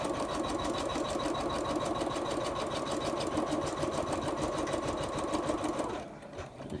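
An embroidery machine stitching out a stuffed toy runs with a fast, steady mechanical whir and rattle, loud and close, then stops abruptly near the end, leaving faint room noise.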